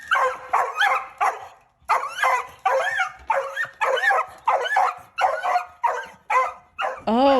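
A small dog barks repeatedly in a basement, sending out a steady run of sharp, close yips and barks grouped in quick pairs, with a whining note at the end and no talk over it.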